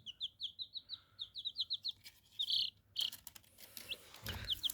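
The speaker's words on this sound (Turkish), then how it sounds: "cik cik cik ötüyorlar. Bunlar civcivlerimiz." Young chicks kept as pets chirp in quick, high repeated peeps, a rapid regular series followed by scattered louder calls and some handling noise nearby.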